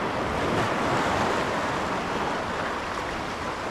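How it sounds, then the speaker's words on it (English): Ocean waves break at a jetty on the open coast, a loud, steady roar of surf with wind buffeting the microphone throughout and no voices. "You always want to watch these sets coming in."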